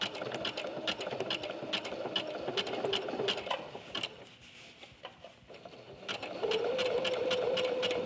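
A sewing machine runs close and steady, stitching a skirt remade from old capris, with a brief pause in the middle before the motor picks up again and continues to the end.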